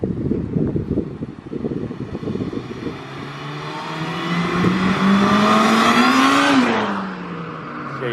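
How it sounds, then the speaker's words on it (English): A car fitted with an LHT supercharger, intercooler and new pulleys accelerates through first and second gear, its supercharger whine rising steadily in pitch over the engine and exhaust, then dropping sharply as the throttle lifts; close, loud, with wind noise. "you're probably going to hear the supercharger more than the exhaust"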